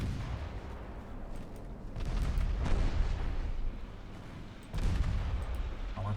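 Naval gunfire in the warship game Ultimate Admiral Dreadnoughts, heard as heavy booming blasts with rumbling low roar, loud surges near two and five seconds over a continuous battle din.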